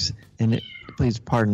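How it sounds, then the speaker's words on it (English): A cat meows three times in quick succession, close and clear, with a brief spoken phrase overlapping. "we have a new kitty, if any of you can hear the meowing reverberating through the sound of your speakers"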